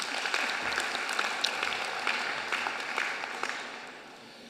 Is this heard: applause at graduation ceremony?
yes